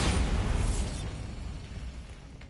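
Bombarda spell explosion in the video game Hogwarts Legacy: a single loud, close blast with a deep rumble and crackling debris that decays over about two seconds.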